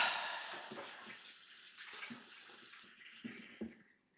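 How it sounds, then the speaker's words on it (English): Water runs steadily from a bathroom tap, a continuous hissing splash with small surges and gurgles, close and alone, tapering near the end. "Yeah, that was totally me using the bathroom. You heard that water."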